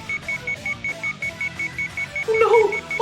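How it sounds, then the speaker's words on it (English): An alarm clock rings in a visual novel game, sounding as a steady train of short, evenly spaced electronic beeps, clear and fairly loud, with a brief burst of other sound near the end. "I had to stop the alarm"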